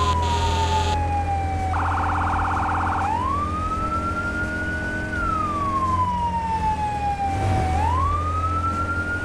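A wailing fire engine siren in Firefighting Simulator: The Squad sweeps up and down in pitch over a steady engine rumble, with a brief electronic burst partway through, loud and continuous.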